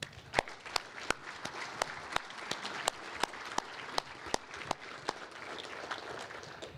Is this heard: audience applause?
yes